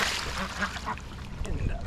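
Ducks quacking and splashing in water nearby in a brief burst of calls and wet slaps, with some human voice mixed in.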